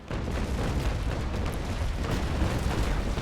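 Ship cannons fire in a Naval Action sea battle against cutters, producing a dense, continuous roll of booming, overlapping blasts with no distinct gaps between shots.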